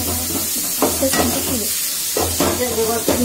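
Chopped tomatoes frying in a pan with ginger, garlic and green chilli paste, a steady sizzle under repeated scraping stirs in bursts, close and moderately loud, for a Marathi-style vatana bhaji.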